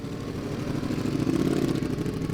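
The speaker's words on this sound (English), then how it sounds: "that V4 motor is absolutely incredible" A 2026 Ducati Panigale V4 R superbike's V4 engine, a steady close mechanical drone that swells slightly in the middle.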